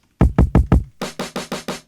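A plain, unprocessed drum loop from a lofi production, four punchy kick-heavy hits followed by five brighter snare-like hits, evenly spaced and dry, with no talking.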